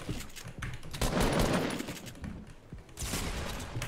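Rapid bursts of automatic gunfire in a Fortnite match, dense overlapping shots rattling continuously with short pauses, loud and close throughout.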